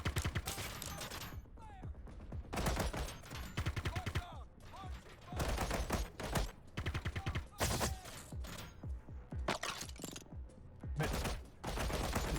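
Rapid automatic gunfire in a VR shooter video game, with loud, dense bursts of shots and brief pauses between them, close up, with occasional voices in between.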